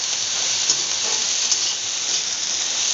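Blanched papaya flowers are stirred in a hot pan, giving a loud, steady sizzling hiss with a few faint scrapes as they are moved.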